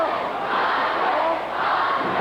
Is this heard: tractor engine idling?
no